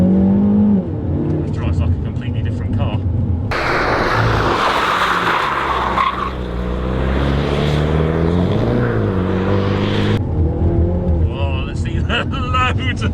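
A Mini GP3 driven hard on a race track with traction control fully off, its engine revving and roaring loud and close through gear changes, with someone talking over it.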